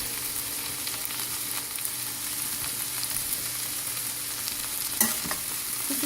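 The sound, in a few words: broccoli and snow peas sizzling in a pan with sesame oil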